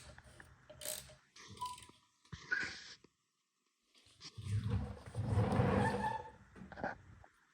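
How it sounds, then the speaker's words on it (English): A 1991 Ninja 500 motorcycle engine is turned over by hand, giving irregular mechanical ratcheting and clicking in short bursts, with a silent gap and a longer grinding, whirring stretch. "Now he's turning the motor over"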